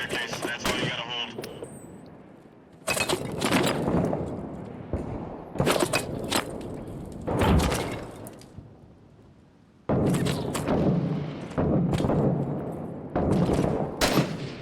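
Bursts of gunfire in the Six Days in Fallujah video game, loud cracking volleys separated by brief lulls, with voices speaking between and over the shots.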